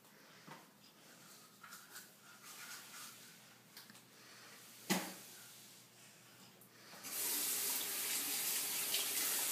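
A tap runs while a child is bathed, starting as faint trickling with a few knocks and splashes, then turning into a loud steady gush of water in the last few seconds.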